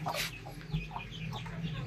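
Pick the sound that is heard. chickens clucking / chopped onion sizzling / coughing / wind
chickens clucking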